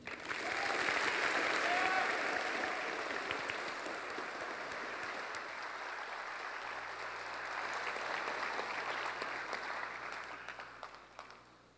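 Sustained applause from a graduation ceremony audience fills the hall, loud at first and easing slightly, continuing steadily for around twelve seconds before tapering off at the end.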